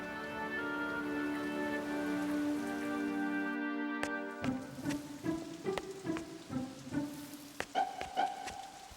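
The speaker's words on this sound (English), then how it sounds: "It rained and rained like it would never stop." Cartoon rain sound effect with steady patter and scattered drops, heard under tonal music that shifts into plucked notes midway, moderately loud throughout.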